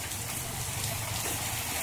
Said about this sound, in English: I guess you would call it summer rain